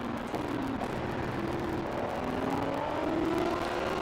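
Naturally aspirated hybrid car engine with a harsh exhaust note in Forza Horizon 5, a continuous loud drone holding high revs with pitch shifting gradually as it runs.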